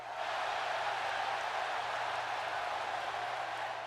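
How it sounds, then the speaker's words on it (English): Wrestling arena crowd cheering and applauding in a steady, dense roar that holds at an even level throughout, with no single voice standing out. "The crowd are happy."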